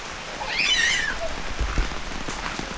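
Steady rain falls on a campsite at D'Kebun in Kluang, Johor, a soft continuous patter with a few heavier drops up close, while a brief high chirping call, like a bird or cat, rises briefly in the background.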